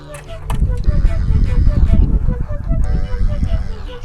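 Several geese honk repeatedly and loudly close by, their calls overlapping in a noisy, rhythmic chorus.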